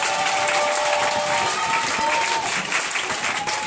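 A church congregation clapping and cheering in praise during a Friday worship service, dense sustained applause from a large crowd close by.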